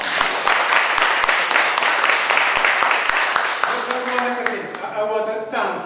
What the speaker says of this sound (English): a final round of applause for all three readers this evening